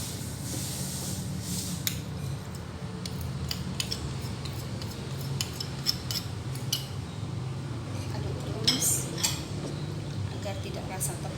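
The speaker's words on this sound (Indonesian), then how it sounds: "Campur terus, aduk." A spoon stirs a coconut milk and rice flour mixture in a pot for Makassar-style Es Pallu Butung, with continuous soft scraping and scattered metallic clinks against the pot, close by, under a faint background voice.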